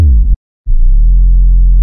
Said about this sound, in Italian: Infatti abbiamo l'808 che fa questo pattern molto molto figo.